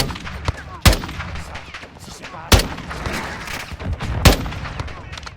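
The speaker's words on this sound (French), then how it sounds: "Ça nous tire des roquettes là" Call of Duty MWII campaign combat: three loud, sharp explosive blasts from rockets, with gunfire rattling steadily between them in a busy battle mix.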